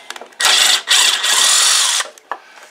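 A 10 mm wrench breaks a nut loose on a Toro push mower, giving a loud, close mechanical grinding and ratcheting burst in a few sustained stretches, with no talk.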